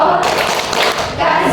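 A brief, dense burst of clapping from students during a university phonology class presentation, loud and close, with voices mixed in.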